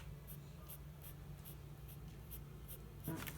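Pencil drawing a birch tree on paper, sketched with the side of the lead: a faint, steady scratching of graphite with soft rhythmic strokes, close up and quiet, with no talking.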